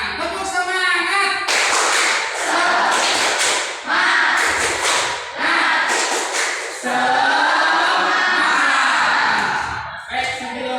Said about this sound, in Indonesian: Mari kita coba tepuk tangan. Tepuk semangat.